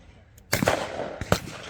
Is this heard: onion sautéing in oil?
no